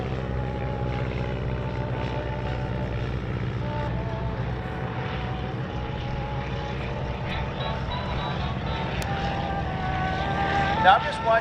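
A Stearman biplane flies at an air show, its propeller engine droning steadily throughout at moderate distance with a rough, harmonic hum.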